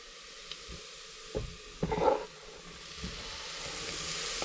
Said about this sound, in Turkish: soğanımız da kavruluyor